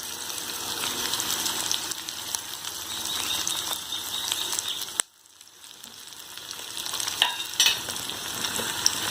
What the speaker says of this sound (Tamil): இந்த ஸ்டேஜில் வந்து பூண்டையும் போட்டு வதக்கிடலாம்.